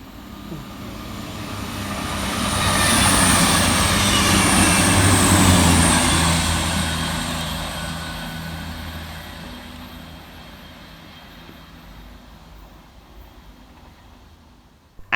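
CrossCountry Class 221 diesel unit 221125 passing through Levenshulme station on a Manchester Piccadilly to Bournemouth service, a rumbling engine and wheel roar that swells loud over several seconds, then slowly fades into the distance.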